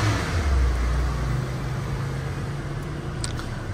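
A 2005 Peugeot 206 idles steadily to charge its battery, a close, continuous low engine hum with no talking.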